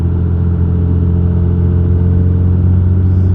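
Car with a transmission being driven after a long cross-country move, the engine giving a steady loud droning rumble from inside the cabin, with no distinct shift change standing out.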